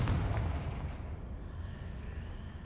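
A Confringo blasting spell explodes in the video game Hogwarts Legacy, a loud deep boom at the start that rumbles and decays over a couple of seconds.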